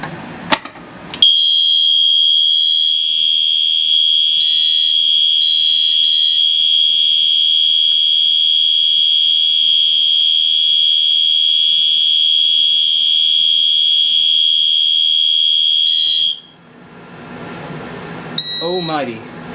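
A BG10 fire alarm sounding during a system test, a loud, steady, piercing electronic tone held for about fifteen seconds after a brief click, then cutting off into a quieter, noisy tail with a short warbling chirp.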